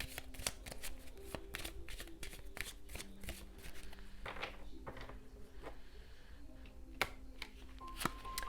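Tarot cards shuffled by hand, quiet crisp riffles and soft clicks of the deck repeating in uneven bursts, close up, with a faint steady hum underneath.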